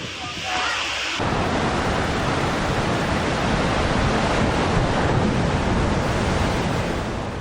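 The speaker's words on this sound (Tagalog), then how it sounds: "ramdam na ang gupit nito sa dagat sa Camarines Sur kung saan naglalakihan ang mga alon" Heavy surf from a super typhoon roars in a continuous wall of noise off Camarines Sur, with strong wind buffeting the microphone after a brief quieter moment at the start.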